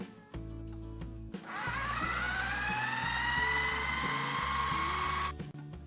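Blender on high blending pea pesto with peas, cheese and olive oil, a loud whirring motor that starts abruptly, holds a rising steady whine for several seconds and then cuts off, close up with no speech.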